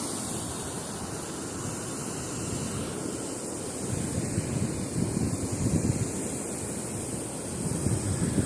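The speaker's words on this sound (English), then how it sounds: "I was hoping this wind wouldn't be as much of a factor, but definitely blowing good." Strong wind gusting across a microphone at the water's edge on a fall fishing outing, a constant loud rumbling roar mixed with surf wash, swelling stronger in the second half with no talking.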